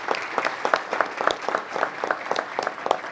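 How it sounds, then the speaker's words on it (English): Applause from a small group at a council meeting, with distinct individual hand claps in an uneven rhythm, moderately close and fairly light rather than a dense roar. "Give them a round of applause, please."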